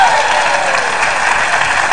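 Studio audience applause on an Indonesian comedy talk show, a loud, dense, continuous burst of clapping and crowd noise that fills the whole moment.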